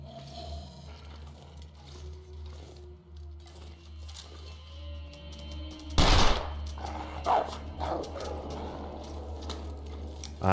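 A single sharp gunshot in The Long Dark cracks out midway, loud against a quiet ambient hum, followed by fainter scraping and shuffling.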